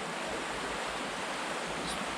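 A small stream flows through the Demir Kapija gorge in Macedonia, close by and steady: a constant broadband rush of water with no breaks and no voices.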